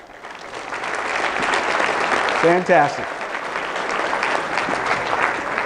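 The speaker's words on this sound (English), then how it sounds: "Give yourselves a round of applause." Loud, sustained audience applause filling a business talk hall, with a voice briefly speaking over the clapping partway through.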